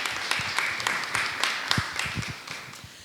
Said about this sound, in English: let's first of all give them a round of applause